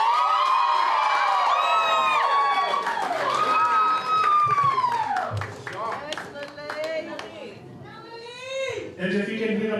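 A party crowd at a 21st birthday celebration claps, cheers and shouts together, loud and close throughout, with voices calling out over the applause.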